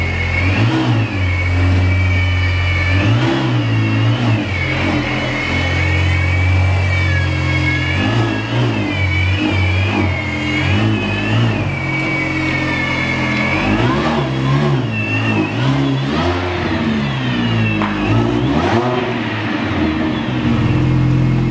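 A Mini Cooper R53 fitted with a Derenza exhaust revs loudly and close by, the engine note climbing and falling in repeated throttle blips over a steady idle, with no talking.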